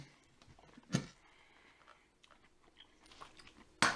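Crunchy bites and soft chewing of a double-fried burrito (chimichanga), with two sharp crunches standing out, one early and one at the end, over quiet mouth sounds up close.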